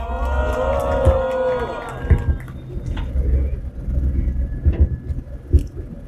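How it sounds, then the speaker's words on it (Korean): A crowd at an outdoor May Day rally for migrant workers sends up a swell of cheering and clapping, with a tonal voice or amplified sound over the noise at first, then continuing, uneven crowd roar with scattered louder bursts. "박수 부탁드립니다."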